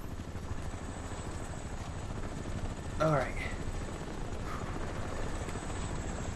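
A helicopter in the video game Crysis gives a steady rotor thrum and engine whine under the gameplay noise, with a brief burst of activity midway and a short spoken remark.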